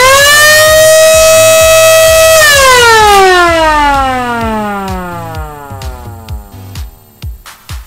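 Loud battery-powered DIY remote party siren wails close up, holding a steady high tone, then winding down in a long falling sweep that fades into sputtering bursts.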